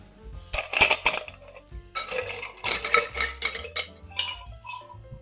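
Ice clinks and rattles against a glass as a spoon stirs a cardamom Manhattan cocktail, a close, bright, irregular run of knocks and chinks.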